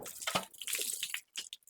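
Water splashes and drips in short bursts as it is poured out for washing in a rural Haryana household, close and fairly quiet, with brief pauses between pours.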